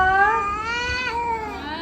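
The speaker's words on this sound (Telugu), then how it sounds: "క్యాట్ సౌండ్ ఉంటుంది చూడు అక్క" A cat meows in drawn-out, wavering cries, loud and close, one long plaintive call sliding up and down with no other sounds.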